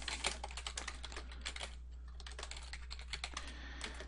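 Rapid, steady clicking of a computer keyboard as code is typed, with uneven bursts of keystrokes close by and no talking.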